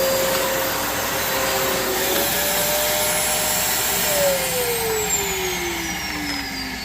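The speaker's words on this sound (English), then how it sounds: "Now you hear the brush roll." A vintage Fantom vacuum cleaner runs with its brush roll spinning, giving a loud, steady motor whine whose pitch shifts partway through, with no talking.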